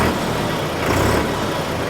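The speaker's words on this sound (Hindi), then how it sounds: "RPM जैसे ही मैं रेस को रेव करता हूँ तुरंत रेस्पॉन्स ट्रैक्टर डिलीवर कराता है" New Holland 3630 turbocharged tractor engine revving up from idle, a steady heavy mid-range drone that swells slightly and holds close and continuous with no voices.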